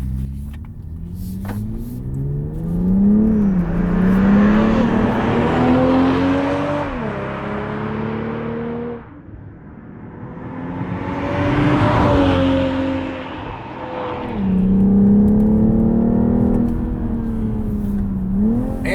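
A 2021 BMW M440i xDrive in sport mode with manual shifting accelerates hard through the gears, its engine note rising in long climbing pulls, dropping briefly between shifts, then climbing again, loud and close from the cabin without talk.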